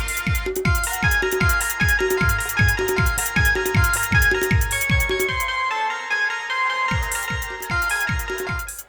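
A phone ringtone plays as a loud, bouncy electronic melody over a steady thumping beat. It drops out briefly near the middle, then resumes, with no one talking over it.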